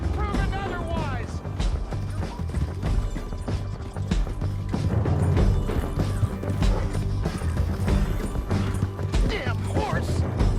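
Horse hooves thud and clatter in Red Dead Redemption 2 amid a busy scuffle of crashes and knocks, with voices and background music running throughout.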